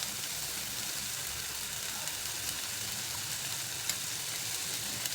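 Ginger-garlic paste sizzles steadily in a hot pan with tomato and onion, a dense, even hiss of frying close by, unbroken and alone for the whole stretch.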